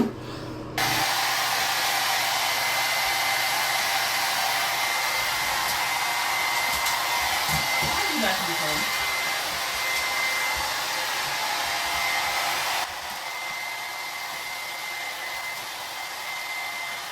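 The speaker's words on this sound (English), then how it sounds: "now we have to blow dry her because she has really sensitive skin" A hair dryer blows on a pet with sensitive skin, a loud, steady whooshing roar that runs continuously for about sixteen seconds and shifts slightly in tone partway through.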